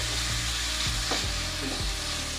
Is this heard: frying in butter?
yes